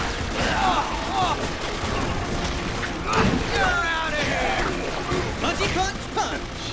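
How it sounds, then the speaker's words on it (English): Rapid bursts of gunfire and booming impacts from the Spider-Man: Shattered Dimensions video game on Nintendo Wii, loud and fairly continuous, with game voices and effects layered over the shooting. "he's just shooting like crazy"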